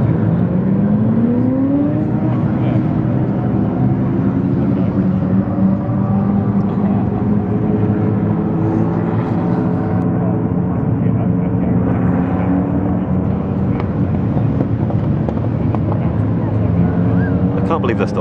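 Ferrari F40s roll past at Silverstone in a continuous loud engine drone, pitch sweeping as each car passes close by, with a voice talking over the noise.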